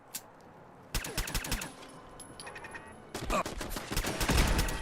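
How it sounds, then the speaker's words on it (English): Rapid bursts of turret gunfire in the video game Fallout London, loud volleys starting near the one-second mark and returning as a longer, denser barrage in the final seconds. "That's just a regular turret."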